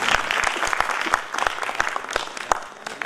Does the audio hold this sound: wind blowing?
no